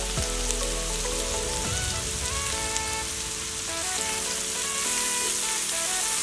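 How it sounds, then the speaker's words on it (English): Garlic and onion sautéing in a pan for a vegetable pickle, giving a continuous crackling sizzle with light stirring scrapes and some tonal hum underneath, and no talking. "followed by garlic and onion. Saute them until little brown."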